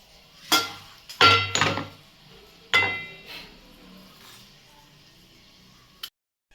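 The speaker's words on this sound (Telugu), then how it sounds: "ఈ ఎల్లిపాయలు ఉన్నాయి కదా ఎల్లిపాయలు దంచుకుందాం" Garlic cloves are pounded with a pestle in a kitchen, giving a handful of sharp, ringing metallic strikes at irregular intervals, some in quick pairs, separated by quiet gaps.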